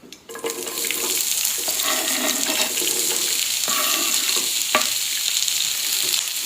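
White onion frying in a pan for a beef stir fry: a loud, steady broadband sizzle runs through the whole stretch, with scraping stirs and a few sharper knocks of the utensil against the pan.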